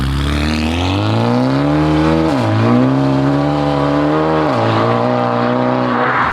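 A Mercedes-AMG with an automatic gearbox accelerates hard and loudly, engine note climbing steadily before two quick upshifts drop the revs with a sharp cut, then building again, close and with no talk.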